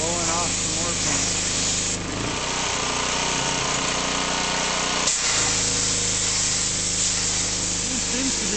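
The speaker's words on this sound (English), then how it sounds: "Blowing off some more paint." A pressure washer with a running engine blasts loose paint off a barn, giving a loud, continuous hissing spray over a steady motor drone that holds throughout.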